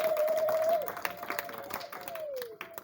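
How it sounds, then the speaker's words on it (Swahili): A church congregation claps for newly baptized members, with scattered applause and crowd murmur beneath a sustained tonal note that fades and drops in pitch. "Hebu tuwapigie makofi sana watu hao."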